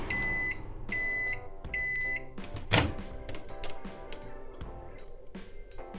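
A microwave oven heating milk gives three short beeps, then a hard thunk, followed by a steady low running hum with faint clicks, all close and without speech.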